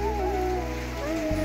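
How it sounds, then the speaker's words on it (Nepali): Steady rain falling on surfaces in a rural village setting, a continuous even hiss with a low tonal hum running underneath, close and moderately loud. "पानी पर्यो पानी पर्यो पानी पर्यो पानी पर्यो"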